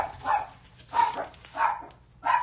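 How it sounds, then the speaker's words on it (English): A dog barks in four separate bursts at a steady pace, moderately close, with a squirrel setting off other dogs; a low hum continues in the background and no one speaks. "She starts barking and a squirrel gets the other two barking."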